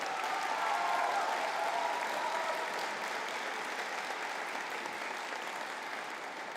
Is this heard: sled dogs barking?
no